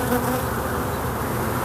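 Honey bees hum steadily around an open beehive as frames are worked, a dense, continuous close buzz filling the whole short stretch without any voices.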